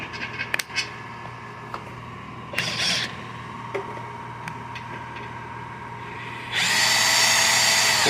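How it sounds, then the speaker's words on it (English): Power drill spinning a T237,000 socket bit during work on an 02 F150, with brief clicks and bursts before a steady, fairly quiet whirring run near the end. "Corey, your bit flops around, buddy"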